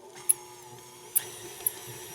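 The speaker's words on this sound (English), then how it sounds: "we're going to turn the mixer on" Electric stand mixer creaming butter for carrot cake frosting, a faint steady motor whine with a few short sharp clicks or knocks of the beater, no talk.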